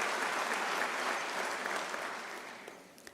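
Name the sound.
audience applause for students and student leaders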